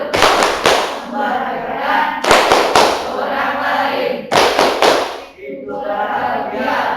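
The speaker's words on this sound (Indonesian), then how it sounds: "Teman-teman, mari kita tepuk bahagia." A seventh-grade class in an Islamic studies lesson performs a rhythmic clapping chant, with loud, close bursts of group clapping in three clusters and voices chanting between them.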